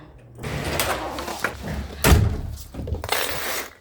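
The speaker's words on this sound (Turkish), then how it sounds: "Ay, kapıyı açtı." A door bangs open amid rattling and rustling, with a loud thud in the middle of a noisy, cluttered stretch of sound.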